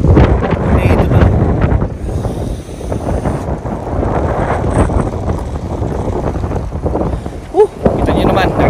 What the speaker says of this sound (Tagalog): Kita nyo naman, narinig nyo naman sa video guys, yung hangin.